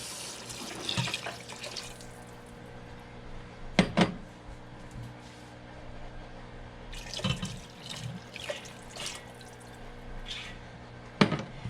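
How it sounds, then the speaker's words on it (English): Broth being poured into a soup pot with potatoes for a creamy potato soup, a soft continuous liquid splashing broken by a few clunking drops and knocks, close and moderately quiet. "So now I can add in my broth and potatoes."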